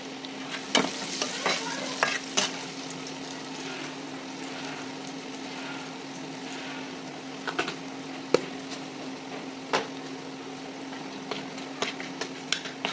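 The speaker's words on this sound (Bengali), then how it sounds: "কালো জিরে ফোড়ন দিয়ে দেবো একটু সাইড করে পেঁয়াজগুলোকে" Black cumin seeds sputter in hot oil beside onions in a pan during preparation of a tengra fish dish, giving a continuous sizzle broken by sharp crackles and the occasional scrape of stirring.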